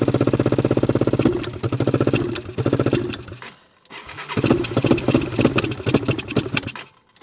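A three-wheeler's small engine, carburetor plugged and needing cleaning, cranks and fires into rapid rough popping, stumbles to near silence around four seconds, then catches again and runs unevenly, loud and close, with no talk.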